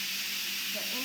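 Steam hisses steadily from the release valve of an Instant Pot being vented after a vinegar cleaning, a continuous broadband rush held at even loudness for about a second, close up.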